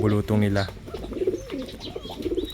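Young backyard ducks give soft, high peeping calls in short bursts close by, with a person talking over them at the start.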